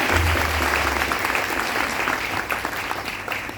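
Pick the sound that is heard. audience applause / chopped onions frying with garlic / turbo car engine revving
audience applause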